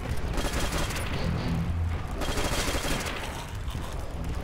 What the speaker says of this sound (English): There's a heavy machine gun over here.